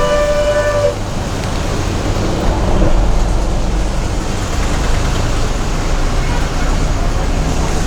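An APSRTC bus travelling from Tenali toward the market, with a steady loud engine and road rumble heard from on board and a brief horn-like tone at the start, continuous throughout.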